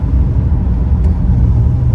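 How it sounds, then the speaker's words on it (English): A Honda Element's worn brakes growl while driving, a loud, steady low rumble of road and cabin noise with no talking. "those brakes are growling"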